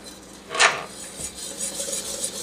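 A single sharp clink of a utensil against a pot on a low stove as eggs are stirred in for latiya, followed by faint soft scraping.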